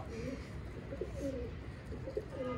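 Red pigeon cooing, a few low soft rhythmic coos repeated close by over a faint background hum, with no speech.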